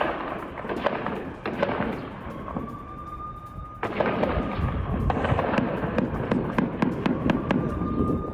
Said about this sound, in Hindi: इजरायली सेना आर्टिलरी से कर रही है हमला।